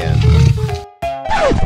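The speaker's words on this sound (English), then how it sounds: "Lion." Loud lion roar from an animated animal game, a short growling burst followed by a sudden cut and then a second, rising roar.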